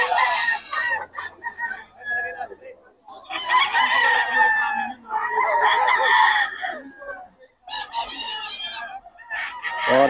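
Stag roosters crow again and again from close by, long harmonic calls coming in several overlapping bursts with short pauses between them, and a few clucks mixed in.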